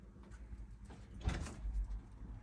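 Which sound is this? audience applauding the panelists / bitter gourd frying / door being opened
door being opened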